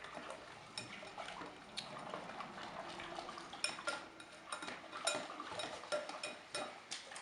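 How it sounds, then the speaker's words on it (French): Milk being poured into a bowl to mix mint-chocolate yogurt ingredients, a steady liquid splash with light clinks of dishware running throughout, no voices. "Je vais verser tout d'abord une première quantité pour bien mélanger l'intégralité des produits."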